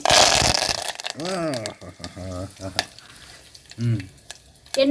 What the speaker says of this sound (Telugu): ఇప్పుడు జీలకర్ర ఆవాలు వేసుకుందామండి కరివేపాకు వేసుకుందాం